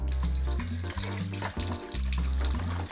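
Warm water running from a kitchen tap into a pot holding an espresso machine filter and grip, a loud steady gush whose pitch shifts as the vessel fills.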